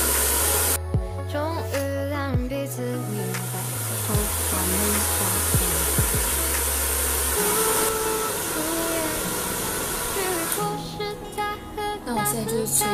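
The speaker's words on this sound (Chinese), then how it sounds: "现在我已经洗完头了，就要吹干看看成果。" A hair dryer blows freshly washed, newly dyed hair, a loud steady close whoosh that runs nearly the whole time, its pitch shifting slightly as it moves, with a brief quieter patch near the start.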